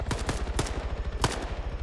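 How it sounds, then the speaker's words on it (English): Rapid gunfire crackles in an Arma PvP battle between OFCRA and WOG, several sharp shots fired in quick bursts against a busy rattling background. "he gets dropped by Alex in return fire"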